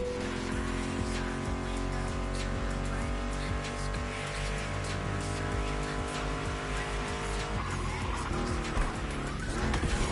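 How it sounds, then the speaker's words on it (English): A roaring Ford Mustang GT muscle car engine in the video game The Crew Motorfest, with squealing tires and skids, loud and continuous, backed by steady music throughout. "Meshes well with the sound of the engines, you feel me?"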